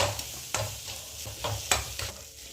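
Pasta tossed with chili powder, pepper, cumin and coriander powder is stirred in a hot pan, giving a low sizzle under several distinct scraping spoon strokes, close and without talk.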